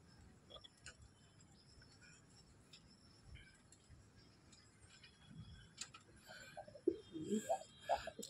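Lokka pigeons coo softly in a few short bursts near the end, against a quiet background with light ticking and faint rustles.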